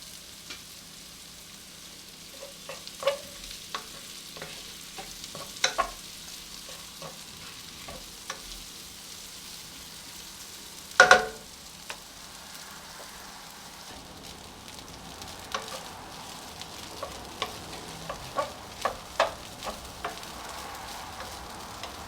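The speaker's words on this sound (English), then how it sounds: "now that I've added the quinoa in, mix that in a little bit" Quinoa frying in a pan for vegetarian fried quinoa, a faint, low sizzle punctuated by scattered soft scrapes and taps as it is stirred, with one louder clatter midway.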